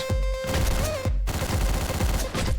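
Gunfire in the top-down video game Hotline Miami, a loud burst of dense shots with a brief gap mid-burst, then continuing rapid fire over game music.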